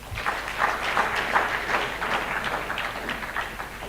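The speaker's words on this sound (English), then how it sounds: "Please, another round of applause." An audience claps after a student production on safer communities, sustained and moderately loud, with dense overlapping hand claps throughout and no talking.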